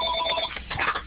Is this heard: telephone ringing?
yes